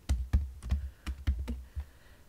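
Rapid, uneven keystrokes clack on a computer keyboard during a statistics walkthrough, about ten close, crisp taps in quick bursts with no talking over them.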